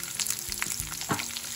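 Onion goes into a hot pan for tomato soup and fries with a close, bright sizzle, broken by a few scraping stirs and small bursts of crackle, with no talking.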